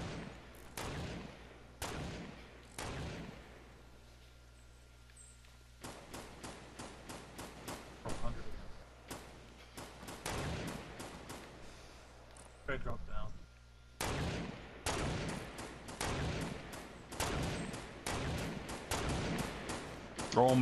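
Gunfire in a PS4/PC shooter game: sharp, loud shots cracking out singly and in rapid bursts, clustered at the start and thickening into dense volleys later, with quiet gaps between.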